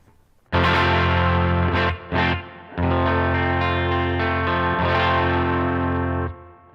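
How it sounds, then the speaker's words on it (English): Distorted electric guitar chords strummed one after another through a Line 6 HX Stomp amp model, thick and sustained with a chorus-like shimmer, played loud and close with no talking. "Let's have a quick strum through a few chords"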